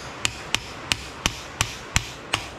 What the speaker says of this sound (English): give this some taps to get the spindle out of here.